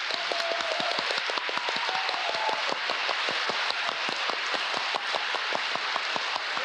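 An audience at a psychedelic symposium applauds the host, dense steady clapping from many hands throughout, evenly sustained and fairly close.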